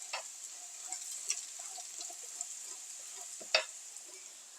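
Potatoes frying in a pan for a breakfast dish give a steady, soft sizzle, with a few faint clinks and taps from stirring scattered through it.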